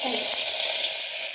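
Curry leaves hit hot oil already holding mustard seeds and cumin, giving a brief, close, bright hiss of sizzling.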